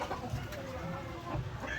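Soft clucking from several chickens nearby on a farm, kept on the ground rather than in battery cages, intermittent low calls over a faint background rustle.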